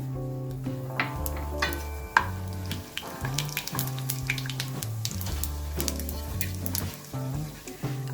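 Cumin seeds sizzle in about 3 tablespoons of hot oil in a pan, a steady crackling fry heard close up with clinks and stirring over a low hum throughout.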